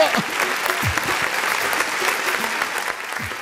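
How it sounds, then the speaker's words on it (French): An audience at the Wam comedy club applauds in a loud, steady wash of clapping that lasts throughout, with a few voices calling out underneath. "Allez, on applaudit très très fort."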